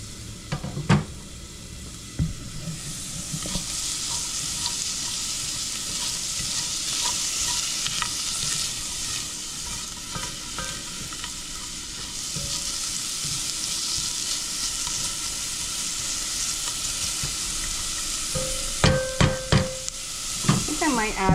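Chopped onion hits a hot pan and fries with a steady sizzle, broken by scraping stirs and occasional clinks of a utensil against the pan, loud and close throughout.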